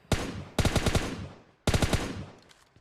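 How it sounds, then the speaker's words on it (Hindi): Bizon submachine gun fire in PUBG Mobile Lite: three loud, sharp bursts of rapid automatic shots, each with a fading tail, separated by short gaps and with no voices. "तभी मेरे को एक बिजॉन का शॉट्स आता है"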